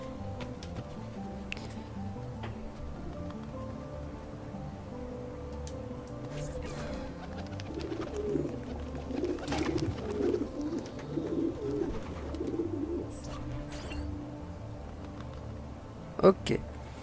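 Pigeons coo in Assassin's Creed 2, their soft, repeated calls sounding under game music and someone talking, with a louder flutter-like burst near the end.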